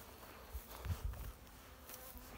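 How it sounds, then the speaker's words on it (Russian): Honey bees fly around a hive in an apiary on a winter day, a faint, thin buzzing drone with a few soft bumps, no voices. "Пчелки"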